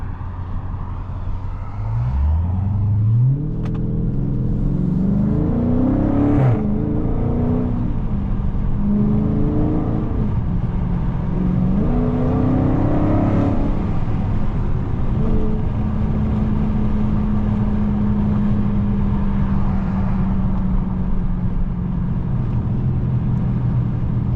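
A Dodge Charger Scat Pack cruises slowly in daytime traffic, its engine droning loudly throughout with several rising rev swells early on before settling into a steady low rumble.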